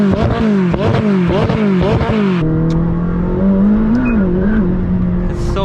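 A McLaren 600LT with the Club Sport Pro package revs hard in several quick rhythmic blips that snap into exhaust pops, then settles into a loud, steady drone with a slight rise, heard close up.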